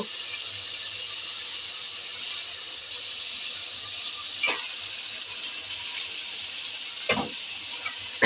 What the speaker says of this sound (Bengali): এখন আমার কষানো হয়ে গেছে, এখন শাক ছেড়ে দেব।